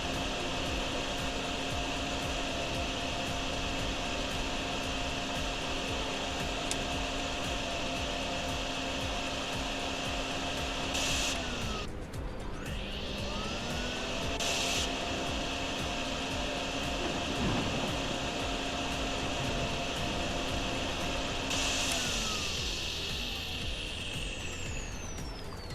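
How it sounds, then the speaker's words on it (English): A vacuum machine runs in the video game Drainsim with a loud continuous whine and rumble that shifts pitch several times, with brief hissy bursts over a steady drone and no talking. "Good old vacuum."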